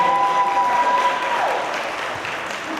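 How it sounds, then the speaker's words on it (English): Applause from the audience at a live talent show finale, a fairly loud wash of clapping that gradually thins and fades, with a brief tone sweeping through early on. "Please give yourselves a big round of applause for coming out and supporting all of our talent."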